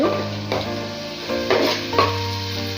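Sliced onions and green chillies fry in hot oil, a continuous sizzle broken by several stirring scrapes and clinks of a utensil against the pan.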